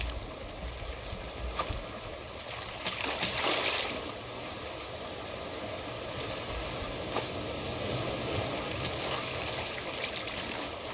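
Ocean waves in the survival game Raft wash in a steady, soft rushing bed of water noise, with a brief swell of splashing partway through and no talk over it.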